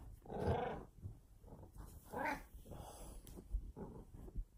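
Bengal cats vocalizing loudly indoors, with several drawn-out, growly yowls rising and falling in close succession, near and fairly strong.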